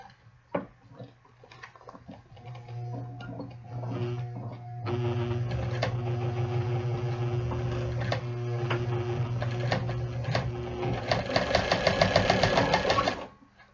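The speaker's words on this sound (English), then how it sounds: "this machine is stitching it like it's not like it's butter" A sewing machine stitches through a Harley leather jacket sleeve while a zipper is repaired, running in a steady, fast mechanical rhythm that grows louder midway and speeds up near the end, with no talking over it.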